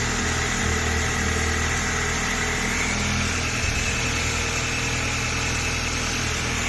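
A Volkswagen Golf GTI with the 2.0 TSI engine idles steadily after repair, a continuous mid-pitched hum with light vibration, close and unbroken, with no voices.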